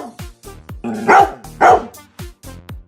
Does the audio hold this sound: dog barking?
yes